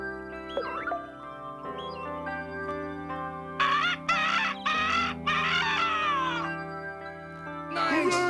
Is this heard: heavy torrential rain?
no